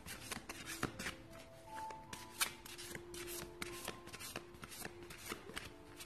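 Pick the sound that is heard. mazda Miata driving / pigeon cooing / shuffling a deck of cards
shuffling a deck of cards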